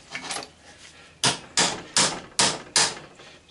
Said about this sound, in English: a lot of times I'll just put it in the vise and then tap the housing off